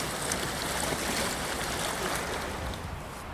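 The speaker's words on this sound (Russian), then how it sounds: "Вон такие волны. Шум прибоя, здорово." Surf breaking on a shore, a dense continuous hiss of water close by, steady and moderately loud, fading slightly near the end, with no talk.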